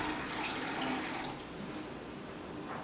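Kangen water poured into tea gives a soft, continuous splashing trickle, fairly quiet and close, easing off slightly partway through with no talk over it.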